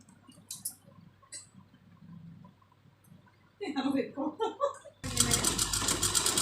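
A sewing machine stitches a buttonhole strip onto a blouse from the reverse side: sparse ticking and short clicks first, then choppy bursts of stitching, and finally a loud, continuous run of the needle.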